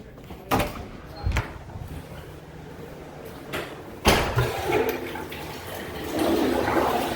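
A clogged toilet flushes, its rushing water swelling in the second half after several sharp knocks and clunks, with no one speaking.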